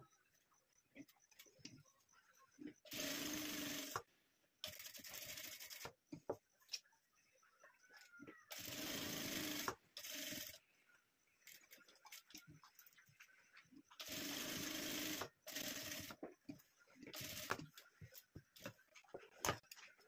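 A sewing machine stitches the back neck of a boat-neck blouse in several short runs of a second or two each. Quiet pauses and faint ticks fall between the runs.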